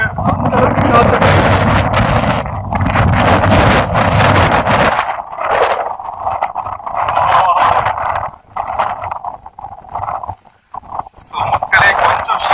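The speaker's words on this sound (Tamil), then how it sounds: "கேமரா ஆடுறது தெரியுதா? ஏன்னா நான் ஆடிட்டு இருக்கேன், அந்த அளவுக்கு காத்து." Strong wind at Ramanathi Dam in the foothills of the Western Ghats buffets the microphone in loud, continuous roaring gusts that rise and fall, briefly dropping away before returning.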